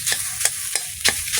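Spatula scrapes steadily through a pan as spices and turmeric are stir-fried for a Bengali dal with taro and tilapia fish. Five or so distinct scraping strokes land over a constant oil sizzle, close and loud, with no talking.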